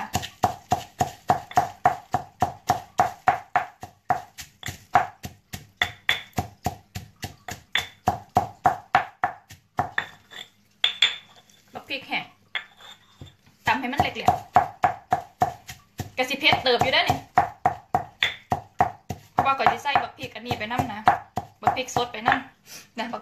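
Tamarind chili paste pounded in a mortar with a pestle: a long run of loud, evenly spaced thuds close by, pausing briefly, with people talking over and between the strikes.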